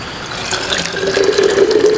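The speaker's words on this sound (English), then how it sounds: "And then I'm gonna add a little bit of water in there." Water is poured into a jar of apples and kombucha, a steady trickling and filling sound with a rising tone as the jar fills, close and fairly loud, with no talking.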